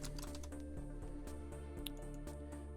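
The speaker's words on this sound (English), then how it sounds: "So I'm going to type in web" Rapid, steady typing on a computer keyboard, close and clear, with continuous key clicks and no talking.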